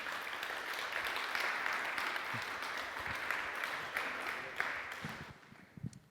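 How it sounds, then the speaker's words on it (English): A conference audience at a morning summit session claps as a speaker is brought on stage, with broad, steady applause that thins out near the end, leaving a few scattered claps. "So let's practice the clapping"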